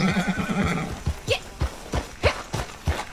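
In the video game Red Dead Redemption 2 Online, a horse whinnies near the start, followed by a steady rhythm of hoofbeats clip-clopping close by.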